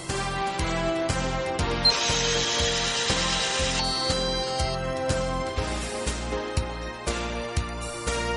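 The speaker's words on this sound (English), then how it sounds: "Automatically, stripping is performed." Fiber optic auto stripper stripping a fiber: a close, steady mechanical whir with rhythmic clicking pulses and a brief higher-pitched whine in the middle, no talking.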